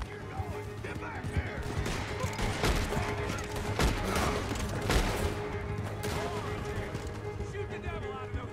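Dense gunfire in a Western video game, a sustained fusillade of overlapping shots and booms with a steady background din, mixed with shouting voices.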